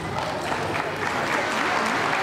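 An elementary school awards-ceremony audience claps for fourth graders, a steady close round of applause with a faint murmur of voices beneath it.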